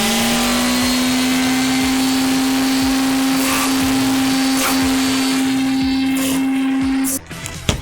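An electric sander runs at full power with a loud, steady motor whine and a constant pitch, then cuts out abruptly about a second before the end, leaving a few faint clicks.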